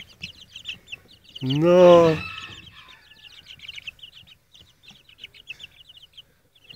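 Young poultry on a farm, a few weeks old and kept with a week-old duckling. A loud, drawn-out squawk rises near the middle, surrounded by continuous faint cheeping and chirping. One short word is spoken.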